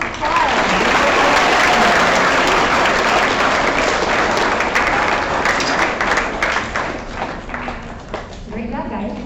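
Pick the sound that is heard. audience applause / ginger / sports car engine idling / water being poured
audience applause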